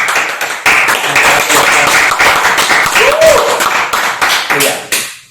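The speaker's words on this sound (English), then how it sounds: "let's have a round of applause for." Clapping during an interview with a social media manager, a small group applauding in uneven bursts with distinct individual claps, close by and fairly loud, with a brief voice partway through.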